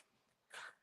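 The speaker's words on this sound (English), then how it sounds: "Excuse my dog. He's getting excited." An excited pet dog gives a single short, breathy snort or sneeze-like huff, close by and brief, after a moment of near silence indoors.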